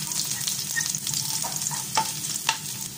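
Curry leaves, green chillies, ginger and garlic sautéing in hot oil with mustard seeds, a dense continuous sizzle with repeated spatula scrapes and taps, close and fairly loud, no speech.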